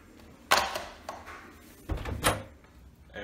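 A studio door opens: a sharp latch click and knock, then a second cluster of thuds and rattles as it swings and settles, fairly close, with no talk.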